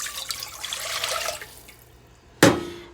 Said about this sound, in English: you want to add a 16-ounce cup of water